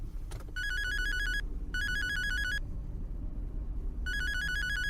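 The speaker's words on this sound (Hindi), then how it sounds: "ड्राइव करते हुए फोन पिक मत किया करो मानव" A mobile phone ringtone sounds inside a car while driving, three bright electronic ringing bursts with pauses between, loud and near over a low steady engine and road hum.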